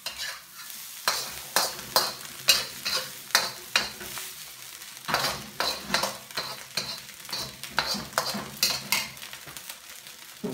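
Fried rice is stir-fried in a wok: a rhythmic run of scraping, tossing strokes over a steady sizzle, close and fairly loud, with a brief pause midway before the strokes resume.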